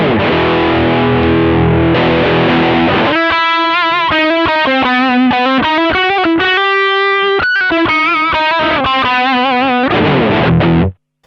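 A heavily overdriven electric guitar through a Shark Rock You Drive overdrive pedal, first strummed chords, then a gritty sustained lead line with bends and vibrato, loud and continuous until it cuts off.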